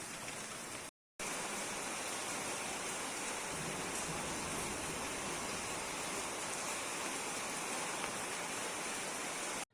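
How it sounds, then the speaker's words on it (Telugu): Heavy afternoon rain pouring down after a hot morning, a dense, steady, even hiss that fills the scene without letting up, broken only by a brief dropout near the start; no one speaks. "చాలా పెద్ద వర్షం పడింది."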